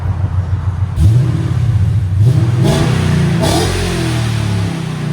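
A deep 600hp supercharged 6.4L HEMI V8 in a Dodge Challenger Scat Pack with Flowmaster 50 Series exhaust rumbles at idle, with several sharp revs surging and falling back, loud and close, no voices.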